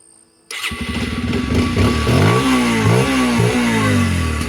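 A new motorcycle engine starts up after a brief quiet moment, then idles loudly and close before revving up and down several times.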